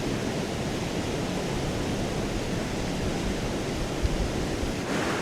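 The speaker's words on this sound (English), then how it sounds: "I'm currently standing over Gadget River. As you can see, it is flowing." Gadget River in flood near Chilliwack Lake Road rushes strongly beneath a bridge, a dense continuous roar of broadband water noise with some wind buffeting, close and unbroken.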